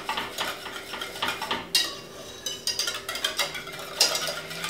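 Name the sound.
whisking cinnamon and fleur de sel into pumpkin mixture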